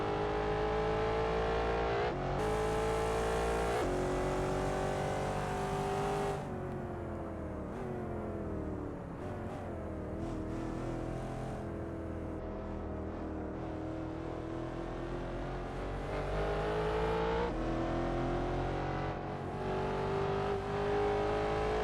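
Hypercars racing at Tor Poznan in a racing video game, a continuous loud engine roar rising and falling through gear changes and revving, with no pause.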